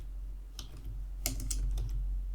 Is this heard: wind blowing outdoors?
no